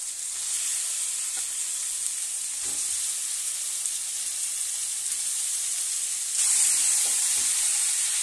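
Chicken sizzles steadily in oil-rich spiced masala for a papaya chicken curry, a close, continuous frying hiss that brightens and grows louder near the end.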